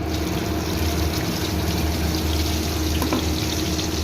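Spice paste is poured into hot oil left from frying fish, with black cumin already tempered in it, giving a steady, dense sizzle and hiss that runs unbroken and close throughout.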